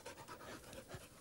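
A trained dog pants in short, quick breaths at close range during an indoor training session, continuous and fairly quiet over about a second with no talking.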